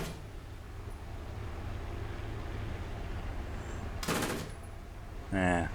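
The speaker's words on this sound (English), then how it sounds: "hopefully I can trick them into thinking that I fired my gun by using my machine gun" A Pz.Kpfw. II tank in the War Thunder video game fires its machine gun in two short bursts, the second one sharper, over a steady low engine rumble, with no other notable sounds.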